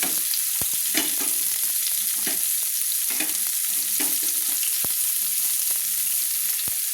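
Two chopped medium onions fry in oil, giving a loud constant sizzle close by, punctuated by repeated clacks and scrapes of a spatula stirring the pan, with no talking.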